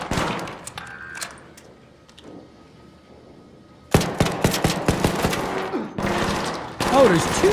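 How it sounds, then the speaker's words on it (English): Turret gunfire in the video game Arc Raiders, a sudden loud burst of rapid automatic shots that cuts in after a quieter stretch, with dense repeated cracks and impacts continuing to the end. "Bro, that turret!"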